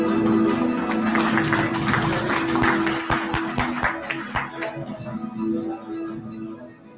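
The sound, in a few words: audience applause at an award ceremony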